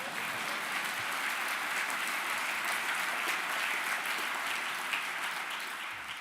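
Audience applause at a conservative political speech in London, a steady dense wash of clapping filling the room throughout, loud and continuous with no voice over it.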